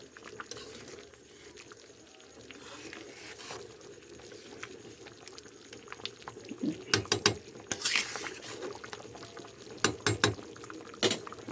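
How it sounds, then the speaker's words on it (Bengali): A pot of old rice boils for biryani, with bubbling and gurgling close by and sharp clicks and rattles from the lid or pot that grow louder and more frequent toward the end. "দেখেন পুরানো চাউলে ফুট খাচ্ছে কীভাবে"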